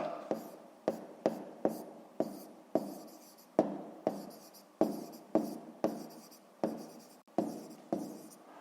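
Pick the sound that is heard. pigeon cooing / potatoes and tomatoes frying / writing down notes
writing down notes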